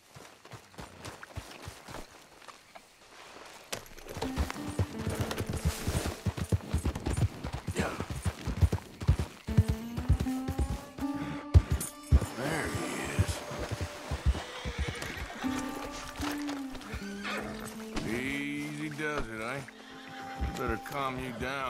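In Red Dead Redemption 2, a horse whinnies and snorts repeatedly while its hooves clop rapidly on the ground nearby, with people talking over the commotion.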